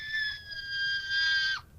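A single sustained high-pitched scream lasts about a second and a half, thin and tonal as if heard through a phone, then cuts off with a brief downward drop at the end.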